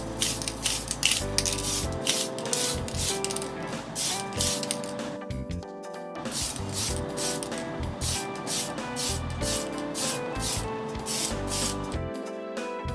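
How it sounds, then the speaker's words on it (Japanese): Matte topcoat spray from an aerosol can coats the backpack parts of an HG Barbatos Gundam plastic model kit in rapid, repeated loud hissing bursts with brief pauses, close by. "トップコートの艶消しをかけていきたいと思います"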